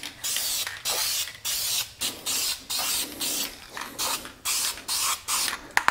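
A Duplicolor spray paint can puts a coat onto vinyl seats in short, loud, close hissing bursts, about a dozen sprays separated by brief pauses, with no talk.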